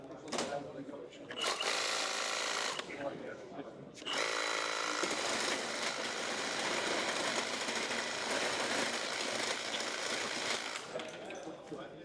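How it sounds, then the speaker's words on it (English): Milwaukee hedge cutter chewing through thick softwood and hardwood dowels, a loud buzzing reciprocating drone in repeated bursts with short pauses between cuts, then one long sustained run. "We're going to have a go with the hedge cutter, but not cutting a hedge. We're going to cut some thick softwood and hardwood dowels."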